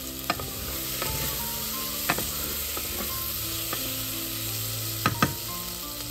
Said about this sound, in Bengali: নেড়ে চেড়ে নিয়ে লাল লাল করে অল্প ভেজে নিই